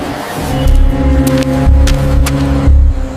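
A car engine runs close by with a steady low drone and harmonic hum, swelling in a few short pulses of throttle, with sharp clicks and knocks scattered over it.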